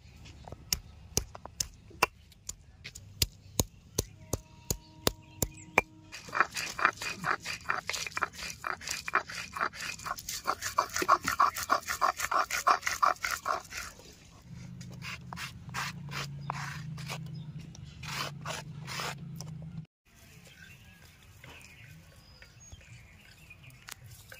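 Ginger and garlic are ground by hand, with a steady run of sharp, evenly spaced taps that blend into a rapid rubbing grind, then a lower continuous scraping, close and clear with no talk.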